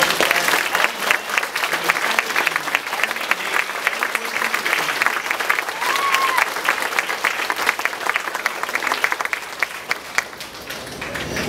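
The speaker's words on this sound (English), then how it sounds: "Let's give a round of applause." A crowd applauds steadily at an elementary school Veterans Day assembly, a dense wash of clapping that carries on loudly from start to finish.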